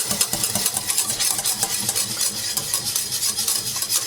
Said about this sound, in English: Make sure you stir all the time in the milk.